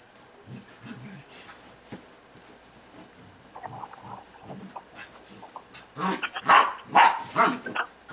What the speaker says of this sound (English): the TV's had a dog barking